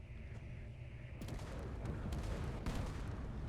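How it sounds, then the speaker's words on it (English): Rapid gatling gun fire from warships in Space Engineers, rattling bursts and heavy booms layered into a dense, loud barrage that intensifies after the first second. "It's funny how the Gatling guns try and intercept the rounds."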